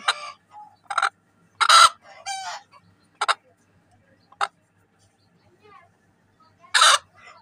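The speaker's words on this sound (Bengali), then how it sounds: "এদিকে আমার আরেকটি মুরগি ডিম পাড়ার জন্য এখানে বসছে।" A native hen clucks in short, separate bursts while settling down to lay eggs, close and fairly loud, with quiet gaps between the calls.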